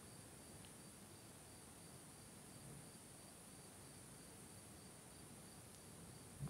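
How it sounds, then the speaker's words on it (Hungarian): Steady, high-pitched chirping of crickets fills a quiet night, a continuous shimmering drone with no voices. "Szólnak a tücskök."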